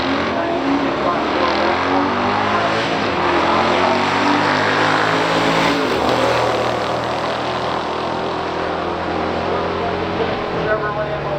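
A 1970 Dodge Challenger RT and a 1969 Chevrolet Corvette in a stock drag race roar loudly and continuously, dense engine noise swelling and shifting, with a crowd and announcer-style voices blended into the din.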